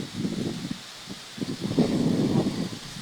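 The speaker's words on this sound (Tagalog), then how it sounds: "Tinitindi yung lakas ng hangin." Strong wind blows outdoors, a steady rough rustling roar with gusty swells and no voices.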